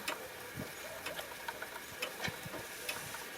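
An old sewing machine motor, modified to drive a homemade pottery wheel, gives a faint, steady whir with irregular light clicks and knocks running through it.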